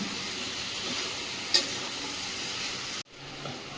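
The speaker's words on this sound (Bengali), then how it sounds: "একদিকে প্রেসার কুকারে জল চাপিয়েছি আর মাংস এদিকে কষানো চলছে" Goat meat sautéing in a pan as a kasha, a steady broad sizzle with a brief clatter of stirring partway through, then a sudden cut and a quieter sizzle resuming nearby.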